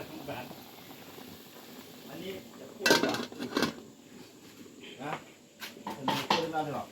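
Fish heads boil in a pot under steady bubbling, with pots and utensils clattering sharply now and then and someone talking over it.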